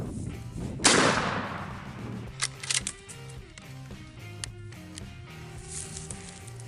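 A 20-gauge shotgun fires a single shot of Federal Premium 3-inch upland loads outdoors, a sharp close blast with a decaying tail, followed by quieter handling clicks and rustles.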